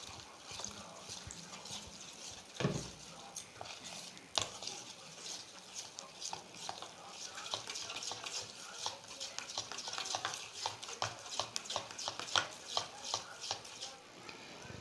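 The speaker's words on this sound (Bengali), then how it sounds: "এবার আমি অল্প অল্প জল দিয়ে বেসনটা আমি ফেটিয়ে নেব।" Gram flour batter being whisked with water in a bowl, a quick steady patter of clicking strokes that speeds up and keeps going, fairly faint and close.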